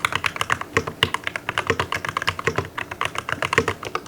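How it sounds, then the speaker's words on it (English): Rapid mechanical keyboard typing on an aluminum Novel Keys NK87 with Durock V2 stabilizers, a steady patter of clacky keystrokes close up with a few heavier thocks, no voices. "it is a Novel Keys NK87 aluminum edition keyboard in Nebula Pink"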